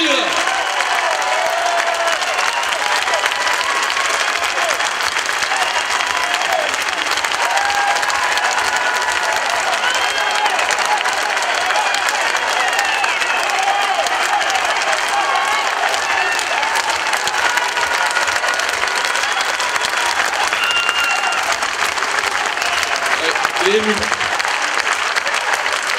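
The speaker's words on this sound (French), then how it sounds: "On peut l'applaudir." A crowd gives sustained, dense applause for a newly elected Walloon regional MP, loud and steady clapping filling the whole stretch without a break, with a few cheers mixed in.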